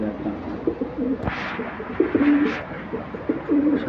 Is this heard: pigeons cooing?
yes